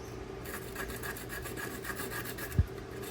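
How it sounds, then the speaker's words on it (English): Clear plastic back of a Kamui Clear pool cue tip being scuffed, a run of short, close rasping strokes in a steady rhythm with one soft thump near the end. "So now I need to scuff up the clear plastic back."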